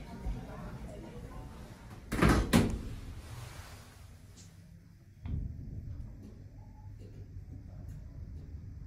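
KONE MonoSpace lift doors at a New Look store in Chester sliding shut, a brief loud rumbling burst followed by a lighter thud as they close, with faint background murmur from the shop floor.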